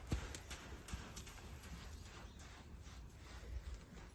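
Horse's hooves step and shuffle on the ground during groundwork training, a few soft clip-clop footfalls at close range over a steady background.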